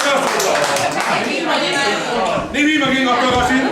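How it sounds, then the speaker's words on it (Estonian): An audience claps in sustained, dense applause at a men's dance-game party for a 50th birthday, loud and close, with voices and cheering mixed in throughout. "Teeme Merele suure aplausi"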